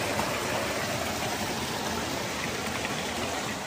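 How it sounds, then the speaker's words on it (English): A massive waterfall at a rock cliff, reached while bushwhacking through backcountry, gives a steady, loud, broadband rush of falling water that holds constant throughout with no voices. "We have accidentally discovered another massive waterfall."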